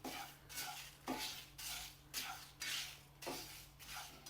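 Chilli and coriander dry-roasting in a pan, stirred with a utensil in about eight rhythmic scraping sweeps under a soft sizzle. The strokes are quiet and close, with no talking.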